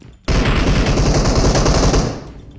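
Sustained automatic gunfire in PUBG Mobile, a loud dense burst starting abruptly after a brief quiet moment and rattling continuously for about two seconds before easing off, with no voices over it.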